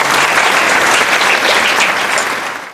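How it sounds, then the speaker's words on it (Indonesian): Applause from students in a classroom, a dense steady patter of many hands clapping throughout, loud and close, fading out right at the end. "beri tepuk tangan"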